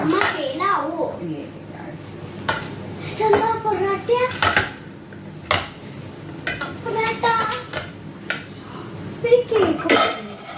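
Freshly cooked kalathappam is moved from a pot onto a plate, with clanks and scrapes of metal utensils against cookware in irregular bursts, close by, while an adult and someone talk.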